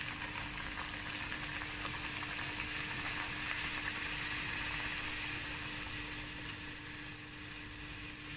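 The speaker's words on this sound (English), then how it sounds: "put it here like this and let it fry until brown color from both sides" Puri dough frying in deep hot oil, a steady dense sizzle and bubbling crackle that holds loud and even throughout with no talking.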